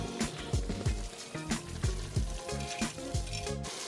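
Food frying in a pan in a home kitchen in Samoa, a close, quiet sizzle with crackling pops and a few stirring scrapes over a few seconds.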